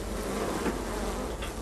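Honeybees carrying water to young bees and brood buzz around the hive in a steady, dense drone, with a few individual bees passing closer now and then.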